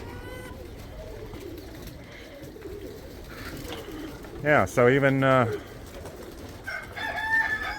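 Racing pigeons coo in a loft, with one clear, loud rolling coo close by and softer calls around it, while someone speaks briefly in the background.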